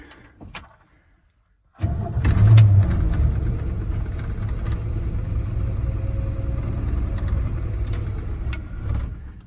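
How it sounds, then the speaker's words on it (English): Chevrolet C10 engine cranking over with gas poured into the carburetor, then firing and running loud and steady close by, preceded by a short stretch of near silence. "I could let the starter crank endlessly till the fuel pump pushes gas up to the carburetor"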